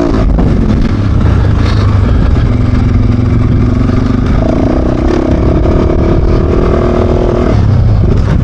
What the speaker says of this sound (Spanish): Vamos a probarla en el circuito pequeño